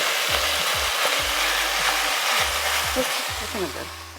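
Beef mince browns in a pot with a steady, close sizzle and frying crackle, broken by scraping and stirring strokes, while people talk over it.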